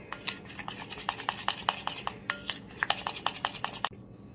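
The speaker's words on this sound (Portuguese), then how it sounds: "Vou colocar uma gota do corante pink, corante próprio para chocolate. E vamos misturar bem." A utensil stirs melted white chocolate tinted with a drop of pink food coloring, scraping and clinking against the bowl in quick, rhythmic strokes that stop abruptly near the end.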